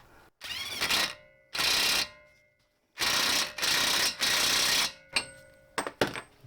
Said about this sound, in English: Right, so we're going to run it up with the gun.